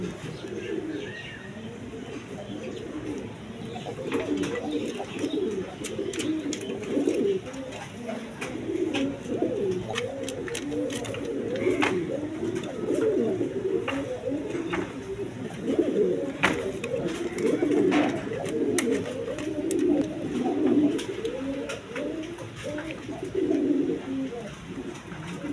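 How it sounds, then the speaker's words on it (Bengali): A pair of large Lahori pigeons cooing together, soft repeated rolling coos overlapping continuously at close range, with occasional sharp clicks and rustles around them. "এখানে এক পেয়ার লাহোরি কবুতর আছে"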